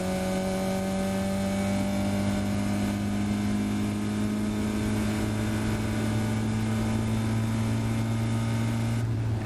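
A Caterham race car's engine drones at a steady high pitch on the Silverstone Grand Prix circuit, a sustained loud tone holding nearly unchanged before cutting off abruptly near the end.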